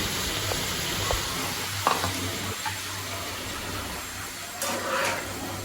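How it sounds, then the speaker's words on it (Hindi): Boiled peas go into sizzling paneer bhurji and are stirred through, a constant sizzle with a low hum beneath and a few scraping clicks of the spoon against the pan. "अब हम लोग इसमें मटर डालेंगे"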